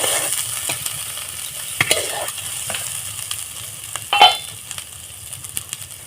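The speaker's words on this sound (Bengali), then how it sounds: "আবার আমি ভালোভাবে মশলাটাকে কষিয়ে নেব" Spice paste with Kashmiri chili powder fries in a pan for a prawn dish, giving a constant close sizzle broken by occasional scraping stirs and a light clink of utensil against metal, with no talk.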